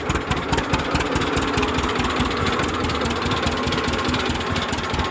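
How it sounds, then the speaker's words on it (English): A 1937 unstyled John Deere A tractor idles nearby, its two-cylinder engine thumping in a loud, steady, rapid putt-putt rhythm that carries through the whole stretch with no talking. "let me idle it once"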